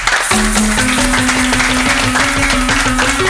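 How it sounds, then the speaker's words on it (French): Audience at a school competition final applauding a school team, dense continuous clapping that is loud and crowded, with a sustained tone running underneath. "On les applaudit très fort."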